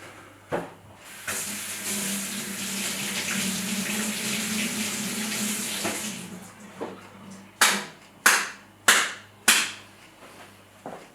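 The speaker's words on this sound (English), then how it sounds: "when you're running water over it, and that kind of releases the flavour of it all" Tap water runs steadily over fresh mint in a kitchen sink for several seconds as a soft broadband hiss, then stops and gives way to a few sharp, close knocks.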